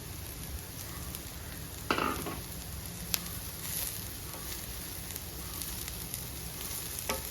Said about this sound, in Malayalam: ഈ സമയം നമുക്ക് അരിഞ്ഞു വെച്ചിരിക്കുന്ന ക്യാബേജ് ചേർത്ത് കൊടുക്കാം